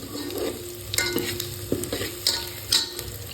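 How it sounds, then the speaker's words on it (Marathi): Chopped onion shallow frying in a pan, a steady sizzle punctuated by several sharp scraping stir strokes roughly every half second, close and clear with no voices. "आपण टाकूयात चिरलेला कांदा. कांदा मस्त शॅलो फ्राय करून घ्यायचा आपल्याला."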